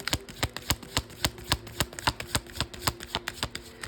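A deck of tarot cards is shuffled by hand, giving a quick series of sharp riffling snaps at a fairly even rhythm, close and clear, with no voices.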